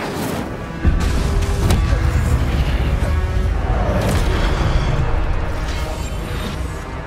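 The Incendio fire spell cast in Hogwarts Legacy erupts with a sudden close boom just under a second in. It gives way to a loud, sustained roaring rush of flame that slowly fades.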